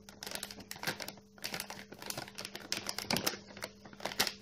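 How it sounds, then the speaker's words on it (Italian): Adhesive tape is pulled and peeled from the back of a Gigabyte GTX 960 OC 4GB graphics card box, a steady run of crackly, crinkling rips and ticks up close, with no talking. "Togliamoci del nastro adesivo qua dietro."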